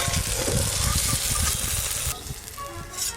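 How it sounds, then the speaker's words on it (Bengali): Eggplant fries in hot oil with a loud, close, steady sizzle and crackle that briefly dips and then returns, with no talk. "বেগুনগুলো আর একটু ভালো করে ভেজে নেব।"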